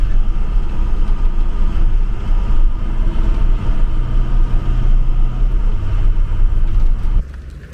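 A school bus converted into a camper cruises along the road, a steady loud low engine drone and road rumble heard from inside, with a gear or speed change midway and a drop at the end.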